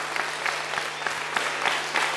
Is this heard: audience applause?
yes